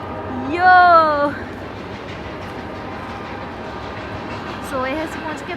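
Freight train rolling past near Banff in the Canadian Rockies, a steady mid-level rumble of wheels on track running throughout, with a voice speaking briefly over it at the start and again near the end.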